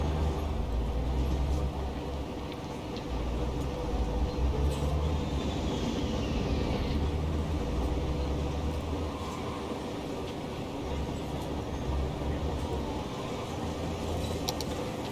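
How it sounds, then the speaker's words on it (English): A train rolls past in a city-building game, a steady rumbling rail noise with clacking wagons holding at a constant level over a low hum for the whole stretch, with no talk. "anyone waiting for the train over here?"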